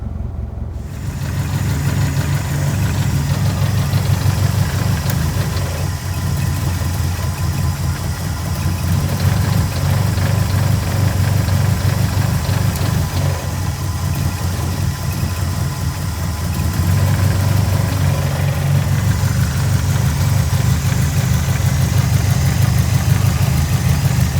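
A 1990 Nissan 240SX S13 idles roughly with a steady low engine drone and uneven, lumpy pulsing. The sound is loud and close, with no talk over it, and it rises slightly in pitch toward the end.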